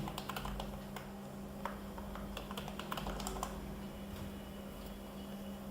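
Password typed on a computer keyboard at a GNOME 3 desktop login on RHEL 7: a rapid, close run of light plastic key clicks over a low steady hum, with no voices.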